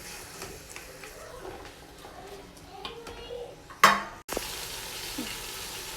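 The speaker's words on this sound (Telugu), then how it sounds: "టొమాటో యాడ్ చేసిన తర్వాత టొమాటో అంతా కూడా బాగా ఫ్రై చేసుకోవాలండి." Chopped tomatoes fry and sizzle in a pan while being stirred, with a soft steady hiss, scattered utensil ticks and a sharp scrape partway through.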